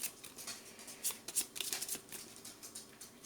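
Artifact cards for the Machina Arcana board game are shuffled by hand, giving close, quick riffling bursts of crisp card noise with brief pauses between them.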